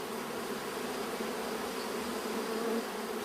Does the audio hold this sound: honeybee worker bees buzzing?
yes